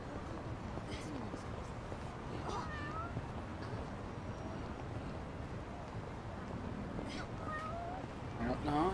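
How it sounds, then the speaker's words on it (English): Several short cat meows in the Yakuza: Like A Dragon video game, faint and scattered over steady background ambience, with a person talking over the game sound. "I heard cat. Where does a cat go?"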